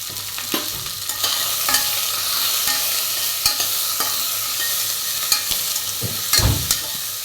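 Onion, curry leaves, ginger, garlic and green chili frying in a pan, a steady close sizzle throughout, with occasional stirring clicks and a louder scrape near the end.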